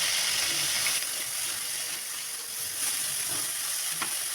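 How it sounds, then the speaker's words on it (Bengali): Shrimp frying in hot oil in a wok, a loud steady sizzle and crackle with occasional stirring scrapes, no talking. "কড়াইতে তেল গরম করে চিংড়ি মাছটা দিয়ে দেবো"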